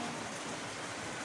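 Steady rain falls in Cagayan de Oro City, a dense, even hiss with no distinct drops standing out. It stays uniform for the whole moment, with no voices.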